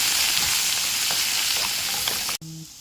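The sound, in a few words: okra frying in hot oil with salt and turmeric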